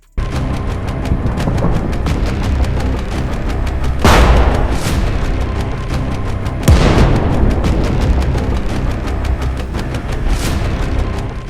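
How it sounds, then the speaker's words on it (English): Heavy tank cannon fire from an Abrams battle against a Russian brigade, two big booming blasts over a dense rumble of continuous gunfire and explosions, loud and close. "Cannon fire and drone assaults follow one right after next."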